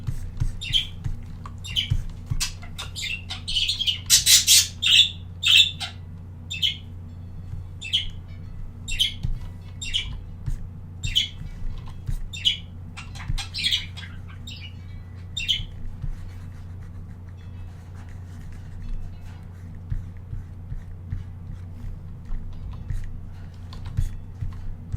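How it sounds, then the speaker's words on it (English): Small bird chirps and squawks come in a quick rhythmic series of short bursts during the first fifteen seconds, then grow sparse over a low steady hum, with occasional clicking that sounds like typing. "The bird sounds are making you sleepy?"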